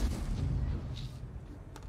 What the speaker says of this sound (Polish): Ładny strzał w ruchu, ładny